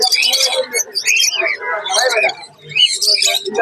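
Mynah and parrot birds at a bird market give busy, overlapping chirps, whistles and squawks close to the microphone, with nearly continuous calling and only a brief lull partway through.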